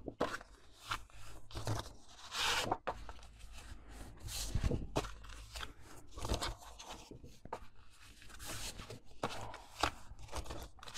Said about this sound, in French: je vais simplement venir les plier en accordéon.